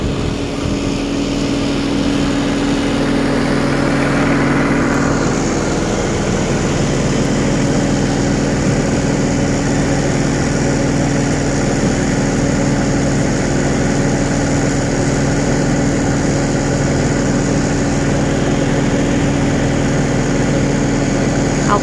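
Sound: sugarcane harvester engine running

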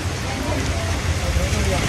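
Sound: rain falling

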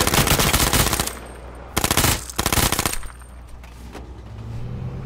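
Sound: gunfire in the video game H1Z1

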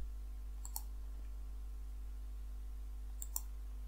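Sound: computer mouse clicks

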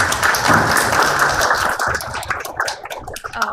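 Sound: audience applause for panel speakers

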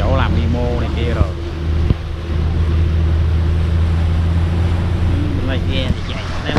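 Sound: fishing boat engine running at sea

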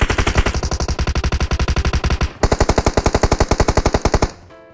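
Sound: gunfire shooting in the video game PUBG Mobile

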